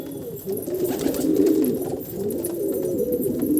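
Pigeons coo on a rooftop, soft throaty rolling calls overlapping in a close, continuous murmur with no speech.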